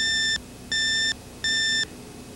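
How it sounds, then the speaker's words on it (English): Three evenly spaced electronic beeps, each about half a second long, clear and steady over a quiet hum. "hear these three beeps,"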